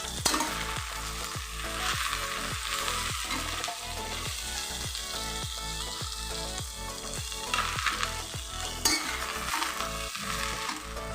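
Leafy greens fry with salt and turmeric in a hot pan, a steady loud sizzle running throughout, broken by rhythmic scraping strokes of a spatula about twice a second, with no one speaking.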